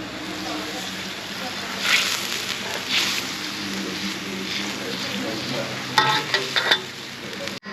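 A pot of red ant egg curry with tamarind sauce bubbles and sizzles on the stove, a steady simmering hiss broken by occasional clinks and stirring sounds close by.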